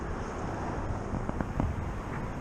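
Strong wind buffets the microphone on an extremely windy day at Pismo Beach, a steady broadband roar with low rumbling gusts throughout.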